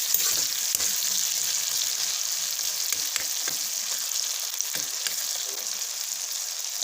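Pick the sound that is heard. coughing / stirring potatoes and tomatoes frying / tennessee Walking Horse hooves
stirring potatoes and tomatoes frying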